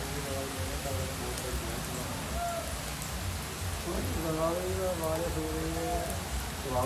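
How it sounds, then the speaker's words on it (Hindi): Heavy rain pours steadily on a kawad pilgrimage walk in Uttar Pradesh, a dense, close hiss that runs throughout while voices talk and call over it. "जैसे बारिश का नाम लिया वैसे ही बारिश हाजिर।"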